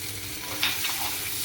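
Grated coconut sautéed with ginger paste in an elephant foot yam curry, giving a steady close sizzle with soft scraping stirs of a spoon in the pan, no voices.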